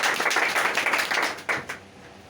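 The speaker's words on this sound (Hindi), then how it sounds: "चलिए अपने लिए जोरदार ताली।" Hall audience clapping at a direct-selling business seminar, a dense burst of many hands that stays loud and close, then thins out over the final second.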